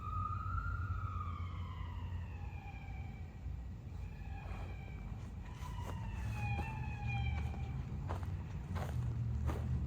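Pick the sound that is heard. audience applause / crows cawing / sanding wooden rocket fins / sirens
sirens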